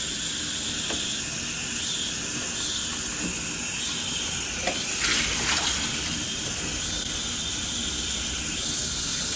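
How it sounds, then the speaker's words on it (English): Water runs steadily from a tap with a soft, constant hiss, a few faint clinks and splashes breaking through midway. "What temperature water would you like, Mrs. Smith?"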